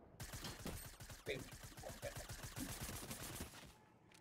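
Rapid gunfire bursts in the Fortnite video game, a dense string of shots right after the player fires by accident, loud and continuous with a few sharper cracks mixed in, with a faint voice underneath.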